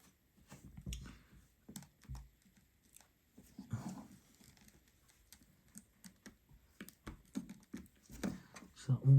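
During an iPhone battery replacement, a phone part clicks into place. Close, sharp little snaps and taps mix with handling noises in an irregular run of clicks.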